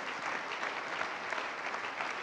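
A church congregation applauding together, dense continuous clapping that fills the space evenly from start to finish without a pause.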